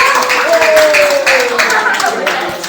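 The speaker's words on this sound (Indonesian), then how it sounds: "Beri tepuk tangan untuk kelompok ini, nakku." Classmates clap for a student group that has just finished a genetics presentation, a busy patter of hands close by, with a voice speaking over it.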